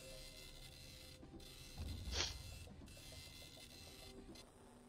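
A card printer runs while producing a library card, giving off a soft, continuous mechanical whir with faint repeated clicks and a brief louder burst midway, all at low level.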